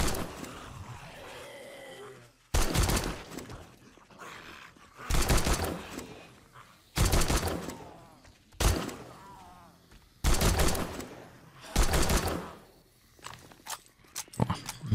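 Gunfire in the video game 7 Days to Die, fired at hordes at night, comes in about seven loud, close bursts of rapid shots separated by short quieter gaps.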